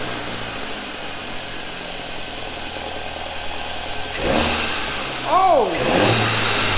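A 2019 Volkswagen GLI engine fitted with a turbo inlet pipe idles steadily, then revs up in two sharp bursts near the end, the second louder, with a short exclaimed voice over the revs.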